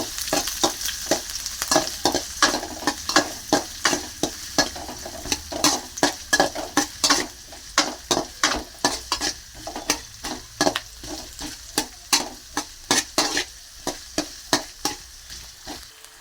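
Thinly sliced onion frying in a pan while being stirred, with a steady sizzle and rhythmic, close scraping strokes of a utensil against the pan, repeating about once every half second, with no talking.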